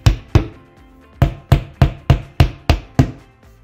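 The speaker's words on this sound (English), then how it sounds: "Then hammer the wall anchors into the wall." Wall anchors being hammered into a wall during an alarm siren install: about nine sharp, loud, close hammer strikes in an uneven rhythm, with short pauses between some blows and no talking.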